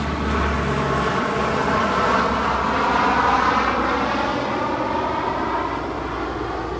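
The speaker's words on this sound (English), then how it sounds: "I'll wait for this plane to pass." A fixed-wing airplane passes overhead with a loud, continuous engine roar that swells and then fades slightly, during an outdoor firefighter recruit graduation.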